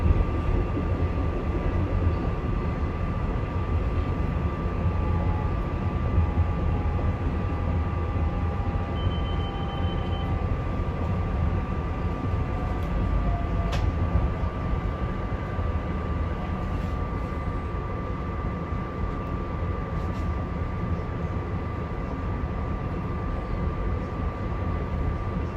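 A SEPTA Regional Rail train runs toward Lansdale, heard from inside as a continuous loud rumble with wheel and track noise and a faint steady hum, with no talk.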